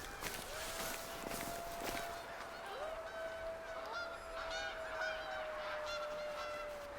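Geese honk repeatedly in a hunting video game, with several calls layered over a steady outdoor ambience and a long, drawn-out tone running through much of the scene.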